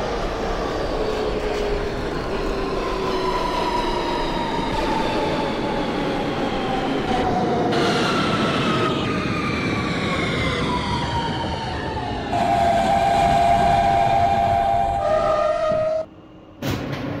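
A simulated Siemens R160B subway train on a T local run in OpenBVE drives steadily, with a loud continuous rumble and rising and falling motor whine, then a short dip near the end.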